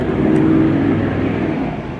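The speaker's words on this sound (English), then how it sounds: "as we have traffic passing, apologies about that, the one downside of recording outside" Traffic going by outdoors, a steady broad rumble of a car passing close, swelling then easing off over two seconds with no talk.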